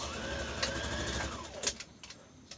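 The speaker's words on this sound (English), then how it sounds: "We have to end our dart right with the pen to continue sewing. So back stitch" Sewing machine running steadily while back-stitching the end of a dart on a dress, a close, continuous motor whir that slows and stops near the end.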